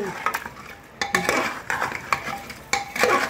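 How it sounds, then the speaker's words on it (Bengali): Mutton is sautéed with green chillies in a pot, heard as a series of close metallic scrapes and clinks of a spoon against the pot over a light sizzle, in irregular bursts with no voices. "কাঁচা লঙ্কা দিয়ে আমি মটনটা সাঁতলে নিলাম"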